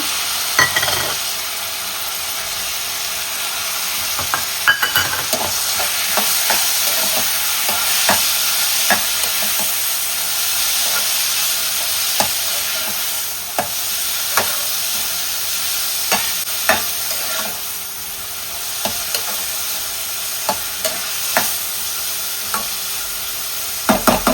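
Green peas and tomato frying in a pan, a continuous close sizzle broken by repeated sharp scrapes and clicks of a spoon stirring against the pan, moderately loud and without any talking.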